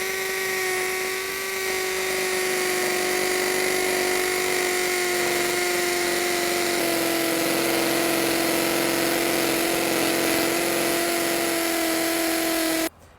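A GSB drill bores a 13mm hole into masonry, its motor whining at a steady high pitch for about thirteen seconds with a slight shift midway, then cutting off abruptly.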